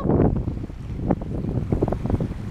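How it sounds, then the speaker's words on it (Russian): Wind gusts buffet the microphone on a sunny beach in early January, with a rough, loud rumble and waves faintly beneath. "Немножко ветрит, конечно."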